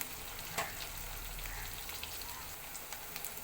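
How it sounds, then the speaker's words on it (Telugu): Eggplant, chana dal, semolina and curry leaves fry in hot oil for an eggplant chana dal curry, giving a steady, close, bright sizzle with small crackles throughout. "ఇవన్నీ ఫ్రై చేసుకోవాలండి ఇవి బాగా మగ్గనిద్దామండి"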